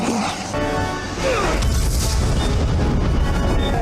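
A loud cinematic explosion from The Matrix Reloaded (2003) booms and crashes, followed by a sustained rumbling roar with layered debris and effects.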